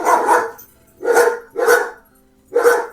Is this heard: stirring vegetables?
no